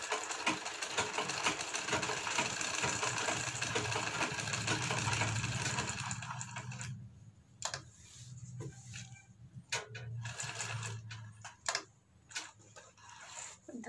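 A sewing machine stitches along the other side of a garment's back neck, a loud steady motor whir for about six seconds, then slower intermittent bursts and ticks as it runs in short stretches.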